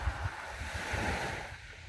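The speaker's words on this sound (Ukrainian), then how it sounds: "ну от відчувається від моря вітерець, хвилі" Sea waves wash onto a beach in Basilicata, Italy, with a steady breeze and wind buffeting the microphone, forming a continuous surf rumble with no voices.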